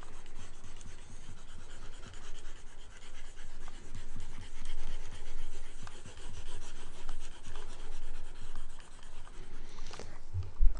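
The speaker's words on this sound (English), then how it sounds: "So let's just erase some stuff here." Rubbing and scraping of an eraser wiping writing off a board during a music theory lesson, a steady rasping swish continuing for several seconds, fairly quiet and close, with no talk.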